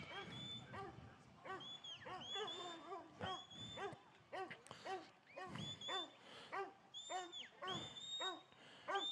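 Sheepdogs bark repeatedly in sharp, busy bursts while herding sheep at the NZ Rural Games, with a commentator talking over the barking throughout.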